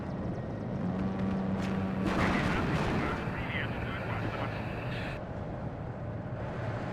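Artillery fire in the video game WARNO, dense rumbling booms and blasts rolling on continuously at moderate level, with a battlefield din and some talk mixed underneath.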